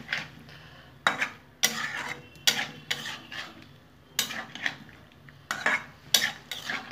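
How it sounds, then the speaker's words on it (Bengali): A spoon stirs drumstick flower and potato curry in a pot after rinse water from the mixer jar goes in, repeated close scraping and clanking strokes in irregular bursts over a low background hum. "মিক্সির বাটি ধোয়া জলটা আমি এখন দিয়ে দেবো, সেটা দিয়েও আমি এখন সুন্দর করে নেড়ে নেব"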